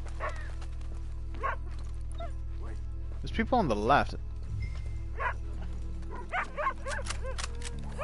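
A dog in the video game Red Dead Redemption 2 gives a short run of yipping, whimpering barks, with one louder burst in the middle, while someone talks over the game's ambience.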